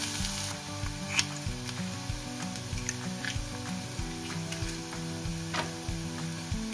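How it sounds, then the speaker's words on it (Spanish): Chopped onion sizzles steadily as it fries in hot oil over medium heat, a constant crackling hiss with light scraping stirs throughout, and no voices. "Aquí ya tengo el aceite listo, así que añado la cebolla y la pocho."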